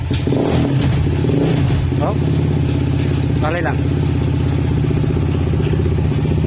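A Honda ADV160 scooter engine running loud and close, with a grinding, creaking metallic noise from inside the engine and a few brief squeaky chirps, and a short spoken remark.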